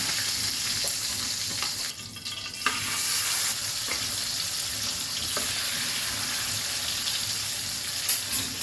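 Fish deep-frying in oil gives a loud, continuous crackling sizzle that stays close and steady, with a few faint knocks.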